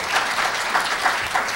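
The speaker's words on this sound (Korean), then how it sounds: "큰 박수 부탁드리겠습니다." A workshop audience at a dementia-care conference gives a short round of applause, a steady, fairly loud patter of many hands.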